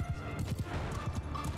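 Horse hooves gallop in quick, steady, rhythmic thuds during a seaside battle with horse archers in the video game Mount & Blade II: Bannerlord, close and continuous under dense battle noise.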